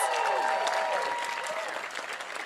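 Audience applause after a singer sings a song, a dense, steady wash of clapping that stays loud throughout and eases slightly toward the end, with faint sustained tones lingering beneath.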